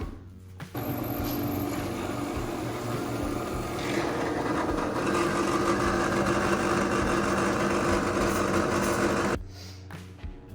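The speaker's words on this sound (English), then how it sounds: "So now we're going to take that over to the press and drill that out." A drill press runs steadily, drilling out a part from a gearbox, a continuous whirring motor sound lasting about nine seconds before cutting off abruptly.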